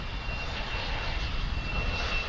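Airliner engines idling and running at an airport before takeoff, a steady broadband roar with a thin high whine, continuous and fairly loud throughout, no talking.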